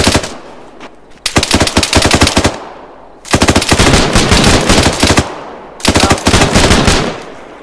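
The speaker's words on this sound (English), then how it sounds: "Somebody else actually shoot these guys, please." Arma 3 automatic gunfire rattles in three long, loud bursts of rapid close shots, separated by brief pauses where the echoes decay.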